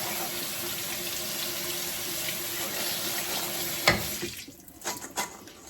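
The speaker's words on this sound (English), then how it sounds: "We're just going to give them a good rinse under the tap." Chestnuts rinsed in a colander under a running kitchen tap, a steady hiss of water that breaks off toward the end into a few drips and clatters.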